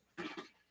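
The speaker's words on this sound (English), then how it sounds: "I've been dealing with coughing like crazy" A single short, faint cough of two quick bursts from a person whose throat won't clear.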